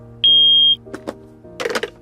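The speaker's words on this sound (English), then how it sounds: "So, Peppa and George, every time you hear a beep, I would like you to put a block in the bucket, okay?" One steady, high-pitched electronic beep from a hearing test sounds for about half a second, followed by a few soft clunks and taps of a block dropped in a bucket.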